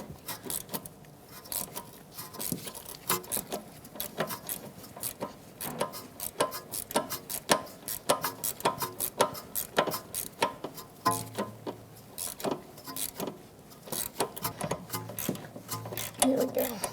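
Ratchet fitted with a 10mm socket loosening small mounting nuts on harness brackets of a 2013-2018 Toyota RAV4 during rear ABS sensor work, giving rapid repeated close clicking throughout.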